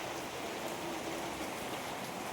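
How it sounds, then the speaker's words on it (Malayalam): Steady heavy morning rain falling outside, a dense even hiss of drops with no talk over it. "രാവിലെ എഴുന്നേറ്റപ്പോൾ നല്ല മഴയാണ് പുറത്ത്"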